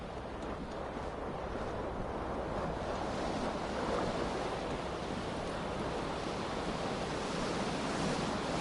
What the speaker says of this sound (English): a cool wind gushing